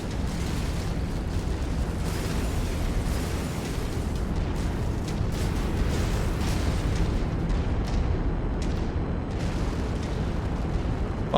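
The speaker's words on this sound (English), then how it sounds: "Why do I hear shooting of missiles?" Missiles launching and exploding in Mechwarrior 5, a dense, continuous barrage of booms and bursts, loud and close throughout without pause.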